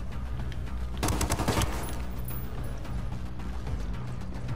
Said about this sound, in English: So I think I'm like the only one shooting right now.